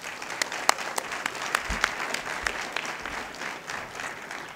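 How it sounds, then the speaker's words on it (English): An audience at a health conference claps as a speaker is introduced, a steady spread of many hands with a few sharper individual claps standing out, loud and close, with no voices over it. "So please put your hands together for Mark Sisson"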